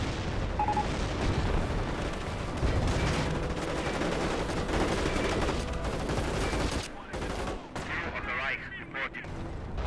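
Battlefield gunfire in Company of Heroes 1, a rifle squad under fire: continuous overlapping rifle shots, bursts and heavy booming impacts, loud and dense, easing slightly toward the end while a voice talks over it.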